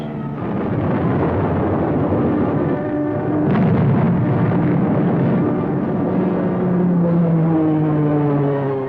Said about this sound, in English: the speedy P-38s peeled off, and dropped their bombs